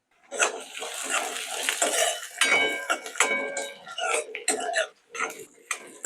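Raw peanuts tumble into a pan and are stirred with a spoon, giving scraping, rattling clatter in uneven bursts up close, with brief pauses between strokes.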